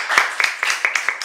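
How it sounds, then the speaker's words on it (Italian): A short burst of audience applause at a conversation event on Campanian wine, several sharp claps standing out over a crowd patter, moderately loud and close. "Facciamo un applauso e benvenuto."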